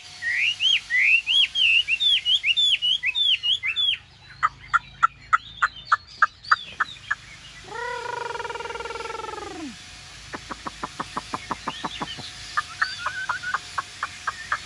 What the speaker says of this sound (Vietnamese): lồng lắc như điên luôn mà con chim vẫn hót quá nhá